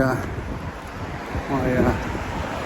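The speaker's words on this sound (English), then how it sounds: "you can hear the wind is up, so it's quite windy." Wind gusts roar against the microphone outdoors, a steady low rush with a brief distant voice partly buried underneath.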